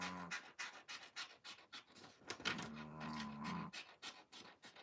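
A pet dog snores and pants close by in a quiet room, a steady run of rough, rhythmic breaths with a low throaty rasp in the middle stretch.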